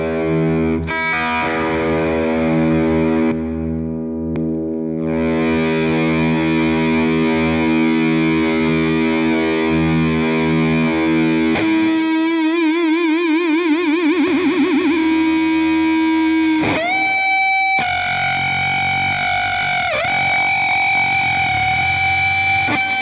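Electric guitar played live through a fuzz box, thick distorted sustained notes and chords ringing out with wavering, bending pitches and a buzzing saturated tone throughout, loud and without speech.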